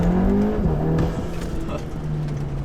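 A VW Golf R Mk7.5 engine and exhaust in race sound mode, a loud steady drone with a slight pitch dip partway through, heard close and alone.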